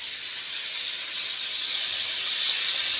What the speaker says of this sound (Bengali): আলু আর কাঁচা লঙ্কাটা আমি দিয়ে দিলাম। এবার একটু ভাজা ভাজা হবে।